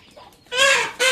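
Hens cluck close by: a soft call, then two loud, sharp squawking clucks in quick succession.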